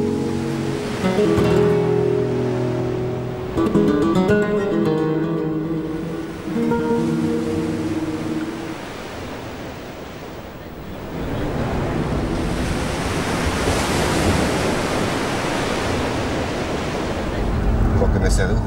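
Waves rolling onto a Mediterranean shore, the surf building into a broad steady wash in the second half while music and low voices fade out early on.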